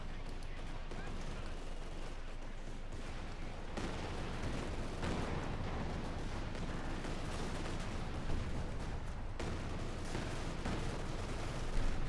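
Dense, continuous barrage of rocket and artillery fire in the real-time strategy game Company of Heroes 2, heavy high-explosive rockets saturating an area, a loud unbroken roar of blasts and gunfire with a commentator talking over it.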